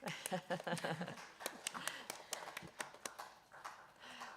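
Attendees at a county authority meeting clap for a newly appointed deputy mayor, a sparse, scattered round of individual claps in a quiet room, with a brief murmur of voices near the start.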